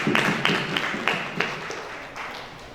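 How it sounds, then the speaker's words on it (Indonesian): Applause from an audience at a youth seminar in Koja, North Jakarta, for the questioners: a short round of scattered clapping that fades quickly within seconds. "Tepuk tangan buat para penanya."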